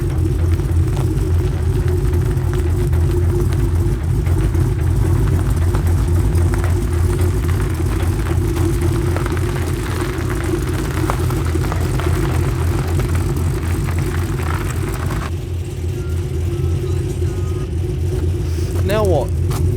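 Cammed 580HP LS3 V8 idling roughly while towing a trailer, a loud, continuous lumpy low rumble with a steady loping rhythm throughout, slightly easing near the end.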